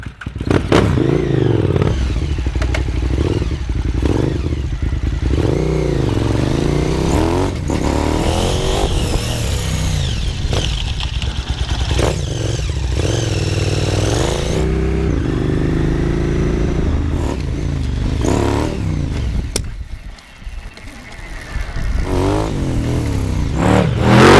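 A Max Hazan supermoto motorcycle engine roars loudly and continuously, revving up and down through gear changes as the bike rides along, with wind buffeting throughout.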